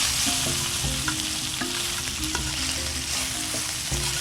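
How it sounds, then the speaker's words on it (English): Bacon fries in a pan with a steady, dense crackle and sizzle, close and fairly loud, with scattered small pops and occasional soft scrapes throughout, and no voices. "Cooking some bacon."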